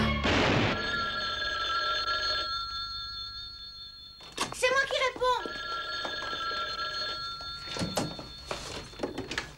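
An old-style telephone bell rings in a quiet indoor scene of a French TV crime drama, with a long ring fading out, a thump, then repeated rings continuing while a voice speaks over them.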